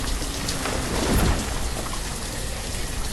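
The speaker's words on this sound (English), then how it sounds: "Now it's raining." Rain pours down with thunder rumbling in the Banished city-building game, a loud steady downpour with a low thunder swell about a second in, with no talk.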